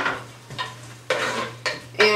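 Chopped prosciutto sautés in unsalted butter in a pan over medium heat, with four distinct scraping stir strokes over a low steady hum and faint sizzle.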